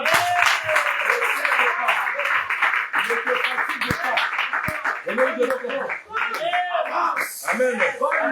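A church congregation at a French-language service claps and applauds together for several seconds, the sound fairly close and lively, running under a voice that keeps talking throughout.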